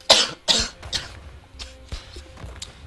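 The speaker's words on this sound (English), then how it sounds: "Sorry about that cough" Several sharp human coughs close to the microphone, two strong bursts at the start followed by smaller throat sounds, during a World of Tanks Generals gaming session.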